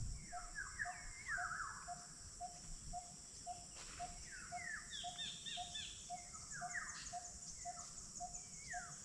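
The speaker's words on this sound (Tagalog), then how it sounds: "Kaya napakaganda ng huli ng mga ibon" Birds sing in the countryside on a rural morning, with scattered faint chirps and trills over a steady, evenly pulsing insect chirp and a soft background hush; the sound is distant and quiet.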